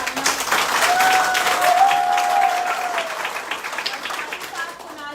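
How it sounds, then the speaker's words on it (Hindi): A crowd at a women's day event gives a loud, sustained round of applause, the dense clapping swelling and then easing off, with a voice speaking over it. "उनके लिए जोरदार तालियां"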